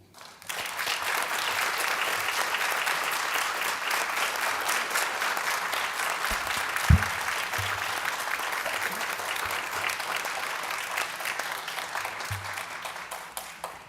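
Audience at a Board of Trustees meeting applauding a police officer, sustained even clapping from a roomful of people lasting many seconds, with a couple of low thuds partway through.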